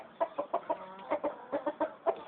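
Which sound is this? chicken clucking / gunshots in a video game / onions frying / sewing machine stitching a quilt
chicken clucking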